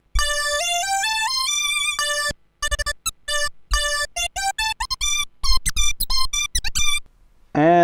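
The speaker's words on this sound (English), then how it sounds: "Then we got this high-pitched lead sound that I like." A high-pitched synthesizer lead sample from a vinyl opens with a rising stepped line of bright tones. Quick choppy note bursts with pitch bends follow, ending on a short glide, loud and alone.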